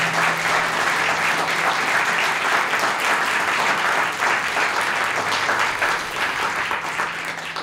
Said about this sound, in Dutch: mag ik nog één keer een hartelijk applaus voor Richard de Let.